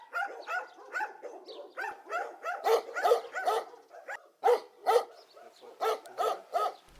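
Several dogs bark repeatedly in loud bursts, overlapping one another with short pauses between volleys, fairly close by, at a guarded settlement in Sajókaza, Hungary.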